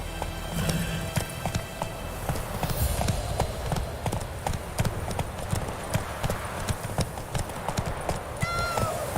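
Roach the horse's hooves clip-clop at a steady trot in The Witcher game, close and continuous, with a brief whinny-like tone near the end.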